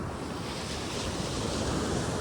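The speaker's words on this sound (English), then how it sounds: "like right out there where the waves are breaking" Ocean waves break on the beach at Hunting Island State Park, South Carolina, a steady broadband roar of surf with wind buffeting the microphone, continuous and fairly loud with no voices.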